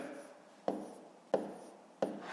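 A pen writes numbers on paper for a long-division math exercise: three crisp taps as the pen meets the page, each trailing into faint scratching strokes, close and quiet.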